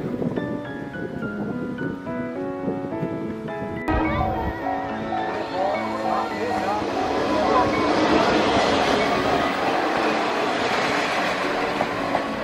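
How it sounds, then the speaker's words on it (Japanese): The Belles Montagnes et Mer sightseeing train rolls past nearby in Toyama, its rumble and rattling building into a loud, dense roar after a crossing signal tone fades at the start. "なんと観光列車のベルモンタがやってまいりました。"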